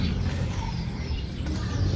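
Small birds chirp and twitter in a garden at dusk as they settle to roost in an Ipomoea rubra vine, a dense, steady chorus close by with no single call standing out.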